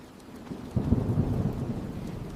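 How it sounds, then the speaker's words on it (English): Heavy rain falls in a dense, steady wash while low thunder rumbles and swells partway through, loud and close, with no voices. "That rain looks really heavy."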